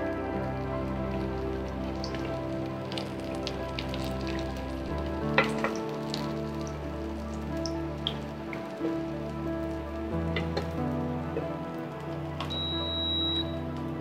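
Egg-stuffed kochuri puris frying in hot oil give a steady close crackling sizzle with scattered pops, running unbroken under a low background hum.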